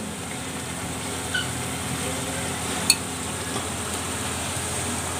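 Raw hilsa fish belly pieces frying in a pan, a steady close sizzle with a brief clink of the utensil as they are stirred.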